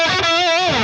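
Electric guitar played through a guitar amplifier's built-in distortion channel, a sustained, thick overdriven note ringing steadily and loud throughout, alone with no talk.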